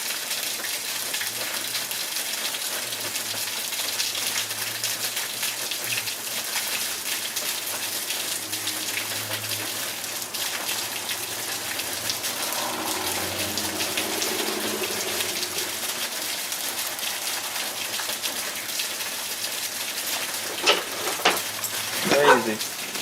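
A heavy rain downpour hisses in a thick, constant wash of noise over a yard, with a voice speaking briefly partway through and a few sharper splashes near the end.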